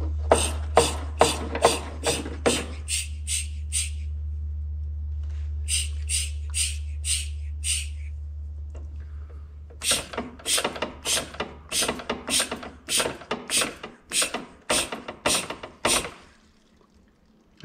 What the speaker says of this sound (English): And I'm going to pull fuel into the pump.